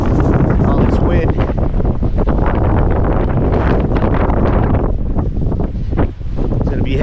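Strong, steady wind buffets the microphone in a loud continuous roar at the White Domes Trailhead, Valley of Fire, with a brief lull near the end.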